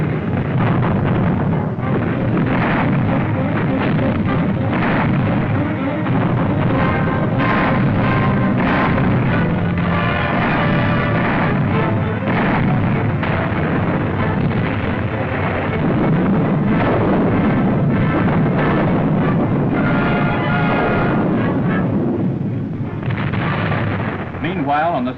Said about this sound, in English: Field regiments of artillery maneuver in close support of armor and infantry, providing the blasting power to keep Jerry on the move.